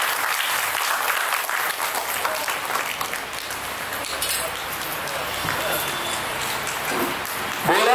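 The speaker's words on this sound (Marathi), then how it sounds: "पुन्हा एकदा आपण डॉक्टर कपिल राजहंस सर आणि मान्यवरांसाठी जोरदार टाळ्यांचा गजर करूया." An audience at a Marathi book launch event claps in sustained applause for the guests, dense and continuous in a hall, with a few voices mixed in.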